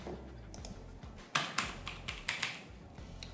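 Keys clack in quick bursts as code is typed on a computer keyboard in VS Code, close and fairly loud, with a few sharper taps standing out over a low room hum.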